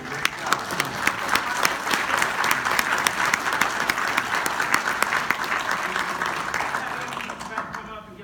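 A crowd applauds steadily throughout at a Skylab documentary panel at the U.S. Space & Rocket Center, with dense clapping that stays loud for about seven seconds before thinning and fading near the end.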